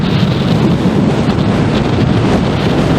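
Loud, continuous wind roar battering the microphone while riding a motorcycle in strong wind, a dense rushing buffet with no break.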